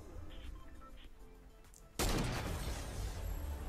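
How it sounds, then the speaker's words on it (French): A minigun in Fortnite opens up abruptly after quieter game ambience, a loud, sustained stream of rapid shots that continues unbroken to the end. "Il est en train de lui tirer au minigun quoi"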